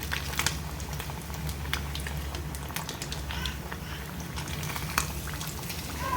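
Fish pieces deep frying in hot oil, a steady close sizzle with scattered crackles and pops that keeps on without a break.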